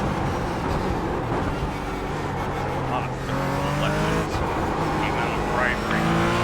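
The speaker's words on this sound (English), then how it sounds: "Starting to sound like a lot of Slower cars ahead." Race cars roar continuously in an iRacing-style video game endurance race, engines droning and shifting pitch with occasional tire squeal, while a voice talks over the steady engine noise.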